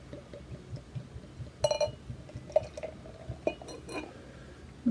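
Duvel 6,66 blond beer pours into a Duvel glass, giving a soft gurgling, fizzing liquid sound with a few clinks and drips, close and fairly quiet.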